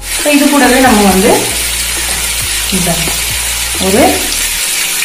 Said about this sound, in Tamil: இப்போ நம்ம வெங்காயம் நல்லா வதங்கிருச்சு, அதுக்கப்புறம் நம்ம இதை சேர்த்து நம்ம வதக்கிக்கலாம்.